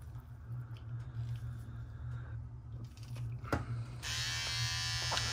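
A Kemei 1971 vintage T9 electric hair trimmer hums steadily at close range, a low motor buzz throughout, with a brief click midway and a brighter, louder whir as it picks up near the end; no one speaks.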